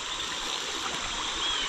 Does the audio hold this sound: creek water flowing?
yes